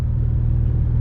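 Low, steady engine rumble from a Porsche GT3, close and loud, holding an even idle-like drone with no talk over it.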